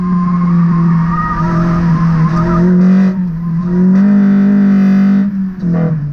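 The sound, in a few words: VTEC-engined classic Mini cornering hard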